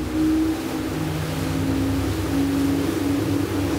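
A Phenom 37 motor boat with twin 600 HP Mercury V12 outboards drones with a loud, steady engine hum over the wash of water as it powers up toward planing speed.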